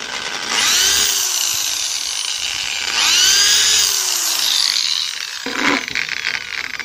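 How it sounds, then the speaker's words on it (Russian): A power drill bores two nail holes into a wooden beehive frame, with two rising-and-falling whines close by, a short pause, then a brief rough burst near the end. "Берем, просверливаем под гвозди две дырочки."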